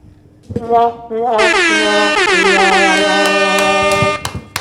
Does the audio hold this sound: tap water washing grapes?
no